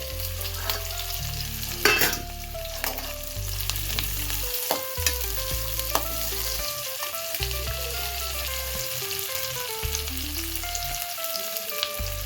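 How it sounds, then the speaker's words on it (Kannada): Chopped onion fries with garlic and ginger in hot oil, a steady loud sizzle throughout, broken by stirring scrapes and a low background tone. "ನೀರುಳ್ಳಿ ಫ್ರೈ ಆವೊಂದುಂಡು ನೆಕ್ ಬೆಳ್ಳುಳ್ಳಿ ಬೊಕ್ಕ ಶುಂಠಿನ ಪಾಡೊಂದುಲ್ಲೆ."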